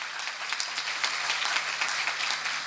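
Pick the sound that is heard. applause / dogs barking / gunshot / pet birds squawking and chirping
applause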